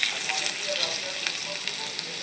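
Chopped garlic fries in hot oil in a pan, a close, continuous hiss of sizzling with small crackling pops throughout, no voices over it.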